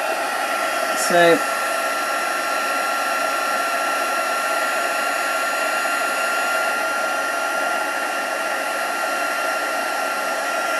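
A heat tool melting embossing material blows with a loud, constant whooshing roar throughout, up close, with a brief voice near the start.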